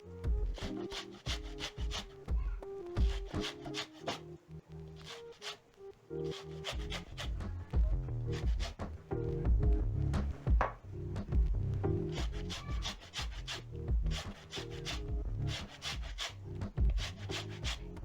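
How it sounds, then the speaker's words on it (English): A fresh orange is zested against a grater in quick, close rasping strokes that come in an uneven rhythm, with no talk. "Next, I'm going to be zesting 2 tablespoons of orange zest."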